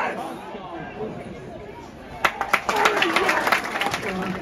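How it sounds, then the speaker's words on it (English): A football crowd at a Cambridge versus Portsmouth EFL Trophy match roars after a header goal, with a broad, steady wash of cheering and chatter that swells into scattered clapping and louder shouts partway through. "And the crowd goes wild."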